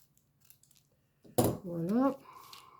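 Scissors snip through a piece of card in one sharp cut, then a longer scraping slice follows, loud and close with no voice over it.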